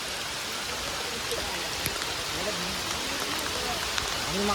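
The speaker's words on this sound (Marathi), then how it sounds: "पाऊस पण चालू झालेला आहे आता" Steady rain hisses down in a hillside forest in Sanjay Gandhi National Park, a constant, even wash of noise with faint voices beneath it.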